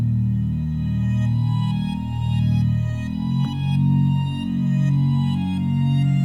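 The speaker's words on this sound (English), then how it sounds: "Then I added some bass to it." An FL Studio beat's synth bass line rolls through sustained, pulsing low notes with rich harmonics, steady and loud throughout, with a brief click midway and no talking.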